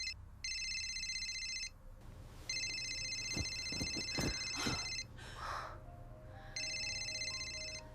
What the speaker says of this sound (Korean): 이른 아침부터 울리는 장기혜의 전화벨 소리.